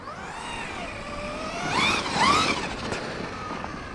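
An HPI Savage X Flux RC truck drives on a slippery surface, its electric motor whining in rising and falling sweeps as it accelerates, fairly close and loud, with no talk.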